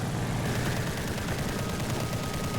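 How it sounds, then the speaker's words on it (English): Rapid cannon fire from a Japanese N1K2-J fighter plane in the War Thunder flight game, a dense, continuous burst of fast shots over engine drone, loud and close throughout. "I love these cannons, very rapid fire."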